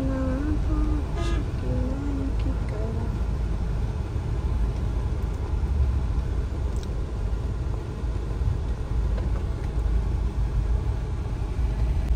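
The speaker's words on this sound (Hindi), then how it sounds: "तो गाइस देखो काफी ट्रैफिक है।" Busy road traffic heard from inside a car, a constant loud engine rumble with a few short horn toots near the start and some distant higher tones.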